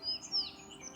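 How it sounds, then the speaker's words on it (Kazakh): A few thin, high chirps from sparrows, faint and brief, over a quiet outdoor background. "Анау жақта торғайлар шырылдап тұр."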